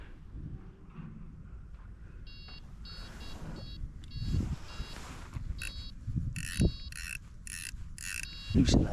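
A fishing reel winds in line while pike fishing with a mackerel dead bait, giving a soft close clicking ratchet and gear whir in short bursts over faint outdoor background.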